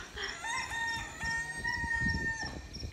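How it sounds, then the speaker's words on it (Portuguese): A rooster crows nearby, a long drawn-out call with some clucking and faint background noise. "Galo doido."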